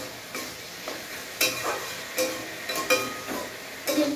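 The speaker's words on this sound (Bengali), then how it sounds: "এদিকে চিচিঙ্গা ভাজা হচ্ছে" Snake gourd fries in a pan with a soft, steady sizzle, broken by several sharp scraping stirs of a spatula at irregular intervals, close and moderately loud.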